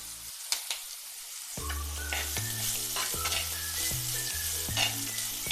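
Sizzling hiss of food sautéing in a pan for a gooseberry (nellikka) dish with salt added, a steady close crackle running throughout, with a few utensil taps and sustained musical tones underneath.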